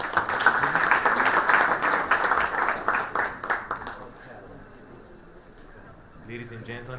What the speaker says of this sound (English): We would like to give a huge round of applause to Mr. Luan Queiroz Bahal.